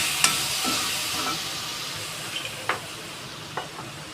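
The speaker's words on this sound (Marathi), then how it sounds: "त्यानंतर टाकते हे मी सोया सॉस." Soy sauce hits a hot pan of chilli paneer, giving a steady loud sizzle and hiss with a few sharp crackles and clinks of stirring.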